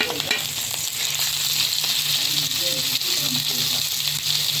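Sliced beef lung frying in ghee in a pan, a loud, steady sizzle and crackle that fills the moment, with a voice speaking faintly underneath.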